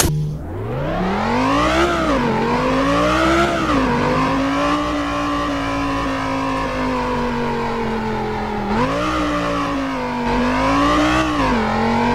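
Cypher WY45 car in the Driving Empire video game revving hard and continuously, its loud engine note climbing and dipping with throttle changes across two rising sweeps, no talking.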